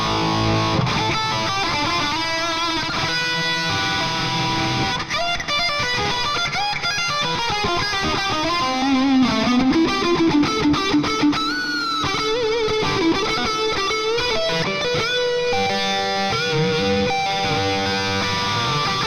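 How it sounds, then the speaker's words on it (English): Distorted electric guitar played through a Hotone Ampero Mini multi-effects unit with plate reverb and ping-pong delay, a continuous melodic passage of notes and chords with echoing repeats trailing behind, loud and steady throughout. "There is a plate reverb, a ping-pong delay"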